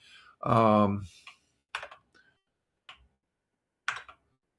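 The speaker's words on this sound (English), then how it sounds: "I'm gonna type on the regular the computer here. I gotta use the keyboard over here" A computer keyboard tapped in a few sparse, separate clicks spread over several seconds, close and quiet, with a brief voiced sound from a person near the start.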